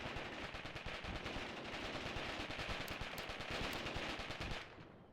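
Dense machine-gun fire aimed toward mortars in the war video game Mius Front, a continuous loud rattle of rapid shots that cuts off abruptly near the end.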